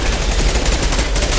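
Rapid bursts of automatic gunfire from a firefight in the sci-fi shooter Mass Effect 2 Legendary Edition, loud and continuous, dense sustained volley with no pauses across the short stretch.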